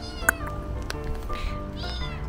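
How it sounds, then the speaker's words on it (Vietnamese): A cat meows close by, with a sharp loud call near the start and softer mewing cries later, heard over a busy background hum in a house in Da Lat. "Con mèo."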